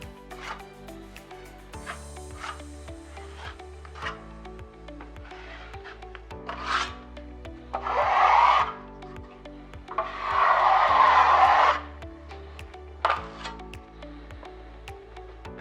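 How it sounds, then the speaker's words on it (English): A taping knife presses FibaTape drywall tape into joint compound, giving a few separate scraping and smearing strokes, two of them longer and louder, between quiet gaps. "Now I'm going to embed the tape in joint compound."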